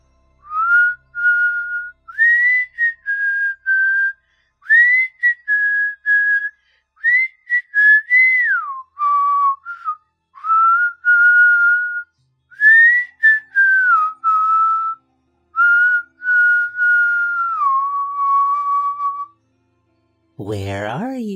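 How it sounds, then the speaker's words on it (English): A man whistles a song in a slow, easy rhythm while trudging across snow, clear and close, in short repeated melodic phrases with brief pauses, ending in an abrupt, harsher burst. "He whistled."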